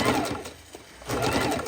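A sewing machine stitches raw edge appliqué on fabric in close, fast, steady runs, pausing briefly in the middle before stitching on again.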